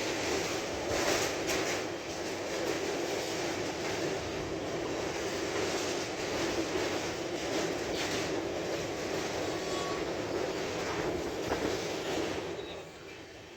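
Steady, continuous rumble and rush of a passenger train running along the track near Srirangapatna station by the Kaveri river bridge, close and loud, unbroken for the whole stretch.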